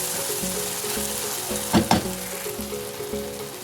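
Ginger garlic paste sizzling and frying in a hot pan, with a steady crackle, a couple of scraping stir sounds midway and faint tonal hum behind.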